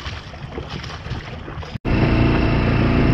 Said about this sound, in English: Just motoring up into this little bay.